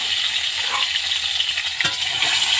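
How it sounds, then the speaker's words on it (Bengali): Oil sizzles and crackles steadily as an egg fries lightly in a wok, with a soft scrape of stirring partway through. "এবার আমি এখানে ডিমটা হালকা করে ভেজে নেব"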